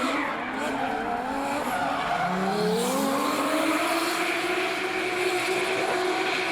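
A 1JZ-powered drift car making 530 hp screams hard against its rev limiter at a speedway drift competition, engine note wailing continuously with rising and falling pitch, loud and sustained with tire and crowd-ambient wash.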